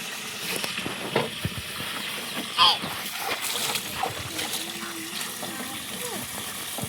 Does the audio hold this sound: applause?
no